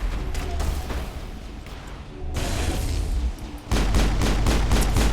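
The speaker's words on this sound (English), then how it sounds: "Oops, that was a grenade" Explosions and rapid gunfire in the Mass Effect video game, including a grenade blast, as loud bursts and sustained firing with dense crackling impacts through the whole stretch.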